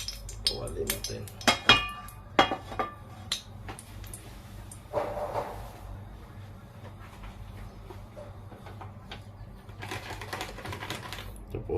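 Metal kawali handled in a home kitchen, with a few sharp clanks and clinks early on, then quieter scraping and knocks over a low steady hum.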